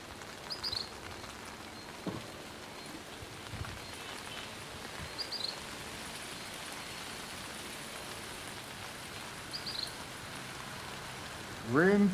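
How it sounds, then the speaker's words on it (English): Sudden heavy tropical rain in Saint Vincent and the Grenadines pours down in a constant hiss, with occasional faint bird calls and a brief louder rustle near the end. "tropical rain, typical for this climate zone. Very sudden and usually very strong."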